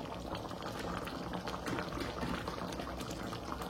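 Matar paneer curry with coriander leaves simmers in a pan, a steady bubbling boil that stays close and even, with no voices.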